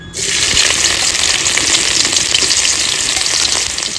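Chopped green chilies drop into hot oil in a kadai (wok) and set off a loud, steady sizzle that holds evenly for several seconds with no voices.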